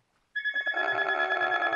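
A telephone starts ringing abruptly, a bright, steady electronic tone that carries on close and clear with no talking over it.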